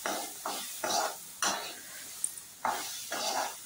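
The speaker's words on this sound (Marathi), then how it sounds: "तर मी थोडं तेल टाकून भाजून घेते आधी." Soaked black-eyed peas roasting in a little oil in a pan, heard as a series of short, rhythmic stirring scrapes with a faint sizzle between them.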